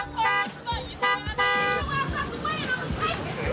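A car horn honks in repeated bursts outside an apartment complex, with crowd babble and traffic noise around it; the toots come in short blasts with a sustained one near the middle.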